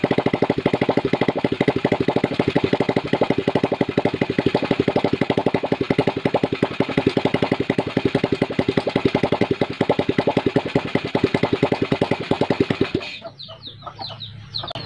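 A motorcycle engine, started without a battery, runs at a steady, rapid idle with loud, even firing pulses for about thirteen seconds, then cuts off abruptly, leaving faint background sound.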